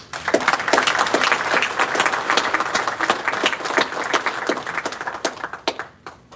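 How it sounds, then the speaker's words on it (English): An audience claps to welcome a keynote speaker at a morning conference session on privacy and security: steady, dense applause throughout that thins out toward the end. "Welcome Raf with a quick round of applause."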